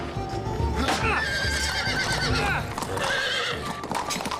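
A horse in a sword-training yard whinnies loudly while hooves clip-clop nearby, the neighs rising and falling over steady hoofbeats with some background voices.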